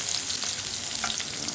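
Garlic and ginger fry in a pan with annatto for a chicken dish, making a steady close sizzle with light crackling throughout, with no voices heard.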